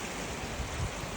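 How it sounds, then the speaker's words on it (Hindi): Flowing water of a forest waterfall, a soft steady broadband rush with no breaks, heard alone and fairly faint throughout. "इतना शानदार झरना।"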